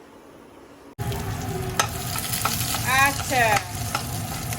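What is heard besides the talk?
sizzling spice tempering (phoron) in hot oil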